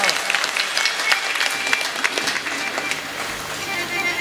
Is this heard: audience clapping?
yes